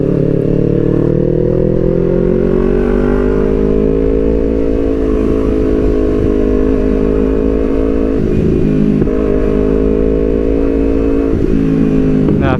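Kawasaki Ninja 250 FI motorcycle ridden slowly through congested traffic, its engine note steady and close throughout with slight rises and falls in revs, carrying on continuously without talk.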